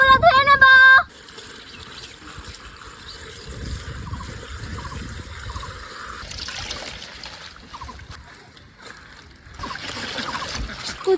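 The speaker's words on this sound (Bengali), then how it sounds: "প্রথমে কচুর শাকগুলো ধুয়ে নেব" Taro leaves are washed by hand in water, with faint splashing and trickling at close range after a short tonal burst at the start, and a few swishes building toward the end.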